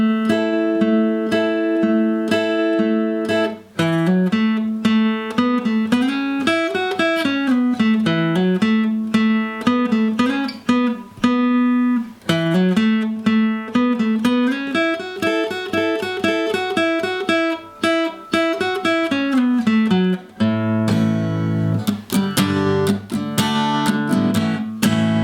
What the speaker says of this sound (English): I'm going to start off by demonstrating the solo for you in its entirety,